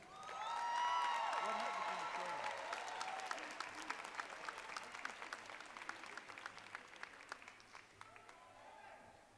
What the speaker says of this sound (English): Faculty members, a big applause for the graduating class of 2017.